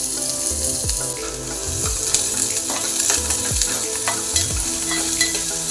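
Garlic sizzling hard in a hot pan for a dry kolim shrimp dish with onion and kokum, with bright continuous frying hiss and repeated scraping stirs of a spoon against the pan.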